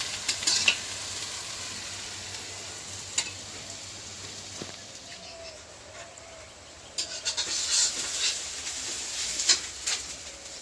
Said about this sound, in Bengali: এখন পেঁয়াজটা ভাজা হোক